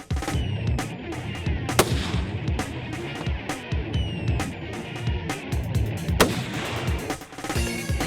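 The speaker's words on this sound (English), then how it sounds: "nice shot. Hit it right at the top of the plate." Rifle fire on a long-range hunter training course, with shots striking a steel plate target. Sharp, loud cracks and impacts repeat in quick succession over a noisy outdoor background, and no one speaks.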